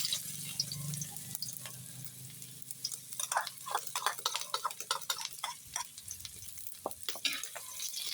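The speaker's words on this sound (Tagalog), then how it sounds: "igisa na natin yung ating sibuyas at bawang" Onion and garlic sautéing in a pan for a dish of bean sprouts, string beans, moringa and shrimp: a soft steady sizzle beneath repeated close scraping and ticking stirs, quiet and continuous.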